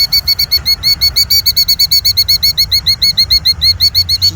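A killdeer near its eggs on the ground gives rapid, loud, high-pitched repeated calls in a fast even rhythm, close by and without any talk over it.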